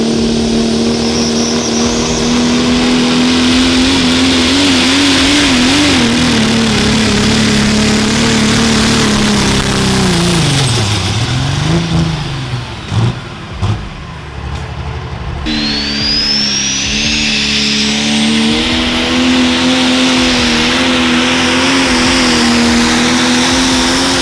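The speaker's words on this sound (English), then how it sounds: "The rugged machine's going full tilt, wheels spinning like mad, flinging sludge everywhere" A pulling tractor's engine roars at full throttle with its wheels spinning in mud, holding a loud, steady drone that wavers in pitch, dips briefly near the middle, then surges again.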